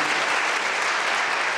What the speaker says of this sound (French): Oui, on peut applaudir.